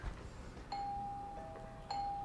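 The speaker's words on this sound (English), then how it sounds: "now the doorbell's going to ring" A quiet two-tone doorbell chime rings twice, a single bright ding followed by a sustained ringing tone, sounding somewhat distant in an otherwise hushed indoor room.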